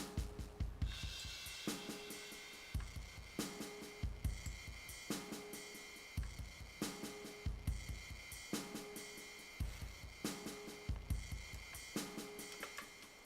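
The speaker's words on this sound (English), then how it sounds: "the drums, which sound like this." A drum pattern of sharp kicks and crisp hits repeats in a steady beat over a bright, sustained electronic backdrop, loud and driving.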